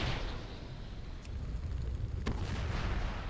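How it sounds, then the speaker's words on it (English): Cannons fire at enemy mobs in World of Warcraft's Heroic Deadmines, two sharp booms spaced about a second apart over a dense, rumbling wash of game noise. "Normally in the groups we would use these cannons to fight off the rest of the mobs"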